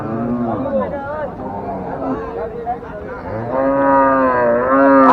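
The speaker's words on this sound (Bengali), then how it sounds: "এটা হলো গাজীপুর জেলা কালিয়াগঞ্জ উপজেলার জামালপুর চৌরাস্তা হাট, বিশাল বড় একটা গরুর হাট।" Cattle low and moo with long, drawn-out calls at a large rural cattle market in Gazipur, Bangladesh, loud and close amid crowd chatter and nearby voices.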